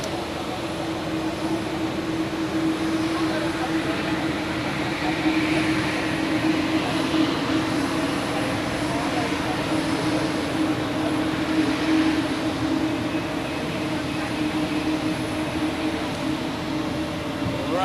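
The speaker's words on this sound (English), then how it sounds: "The Tokyo flight is now taxiing" Airliner taxiing at Zurich Airport, a steady distant engine drone with a constant mid-range whine that holds for the whole stretch, broad and even, with no talking.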